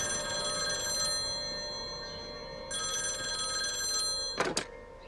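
An old-style telephone bell rings in two long trilling bursts indoors, fairly clear and alone, followed by a short thump near the end.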